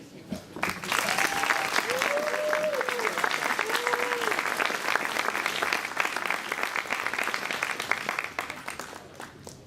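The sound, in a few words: audience applause at a gala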